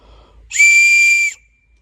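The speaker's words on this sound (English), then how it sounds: "make the gurgly sound like a gym coach's gym teacher's whistle" A gym teacher's style whistle blown once in the woods, a single loud shrill blast held for under a second with a slight gurgly warble, starting and stopping sharply against near silence.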